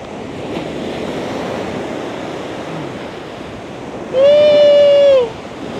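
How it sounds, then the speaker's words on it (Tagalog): Ocean waves wash onto a Florida beach as a steady, broad rush of surf with wind noise on the microphone, followed near the end by a brief loud tonal squeal, likely a voice. "Ayan, ang laki ng alon."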